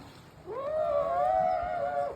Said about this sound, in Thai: นี่เสียงช้างด้วยเดี๋ยว